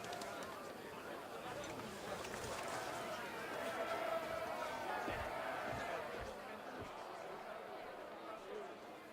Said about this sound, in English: Did you hear the crowd?